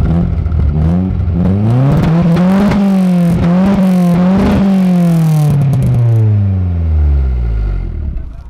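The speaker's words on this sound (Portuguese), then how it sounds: "Aí, vamos mostrar aqui o ronquinho do motor." A car engine, on a car rebuilt from scrap and running on ethanol, revs up and down several times close by, pitch rising and falling in repeated sweeps before settling back toward idle, loud throughout with no talk.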